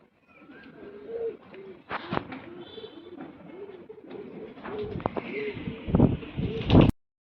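Pigeons in a loft coo in rhythmic, low rolling calls, with sharp knocks and wing rustles between them, close by, before the sound cuts off abruptly.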